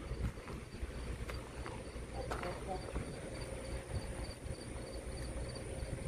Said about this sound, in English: And a cricket. We got a cricket over here.